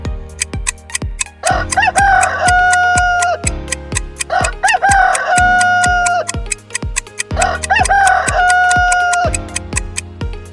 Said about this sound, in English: Yes, it's a cock.